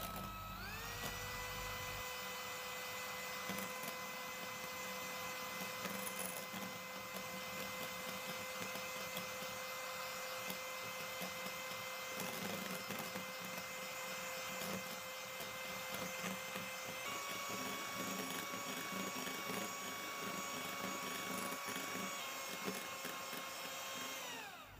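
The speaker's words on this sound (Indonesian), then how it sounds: "Setelah itu kita mau kocok atau mau mixer kuning telur dan juga gula halus." An electric hand mixer beats egg yolks with powdered sugar for a rolled sponge cake, giving a steady, loud motor whine that holds unbroken for the whole stretch, with a slight shift in pitch partway through and no talking.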